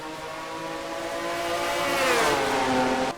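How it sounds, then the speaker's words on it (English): V6-powered race cars in the Mello Yello series at Rockingham, during the Goodwrench 200, scream past with a rising then falling engine howl, loud and continuous, the pitch sweeping down as they pass. "these are V6 engines that they're running on these cars here"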